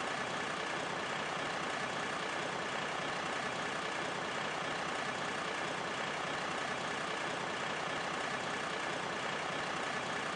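A windrow turner truck runs at a municipal compost site with rows of food scraps, giving off a steady, dense engine rumble mixed with broadband noise that stays constant and close throughout.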